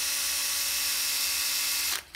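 An old Japanese cordless battery drill whirs close up in a steady high whine for about two seconds, then cuts off abruptly, leaving a few faint clicks.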